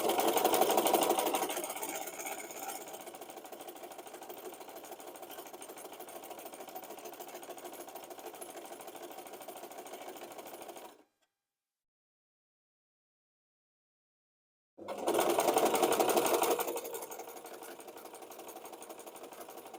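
A home sewing machine runs steadily for a long stretch while stitching fabric for an Easter basket, stops abruptly into silence for a few seconds, then starts up again loudly with its rapid mechanical whir.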